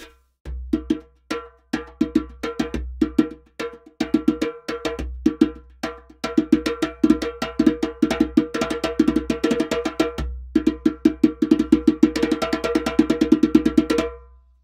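A djembe hand drum played up close in a lively rhythm, with sharp bright slaps and deep bass tones. The strikes grow denser and faster toward the end, and there is no talking.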